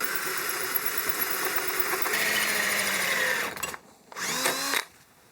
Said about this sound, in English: use this hole saw to get the rounded cut drilled out at the base